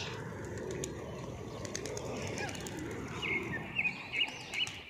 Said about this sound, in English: Look, hundreds of pigeons are here.